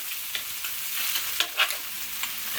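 Vegetables are stirred on a hot sizzling grill for a Samoan-style meal. A soft continuous hiss runs throughout, with a few brighter scraping and clacking stirs near the middle and no voices.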